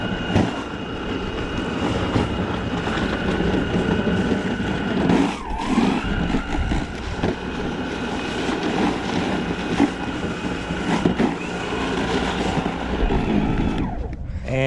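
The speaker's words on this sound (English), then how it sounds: "So here is the snow shovel." A Litheli U20 40V battery-powered snow shovel runs outdoors through about an inch of snow, a steady whirring motor drone with rougher scraping surges, heard up close and without pauses.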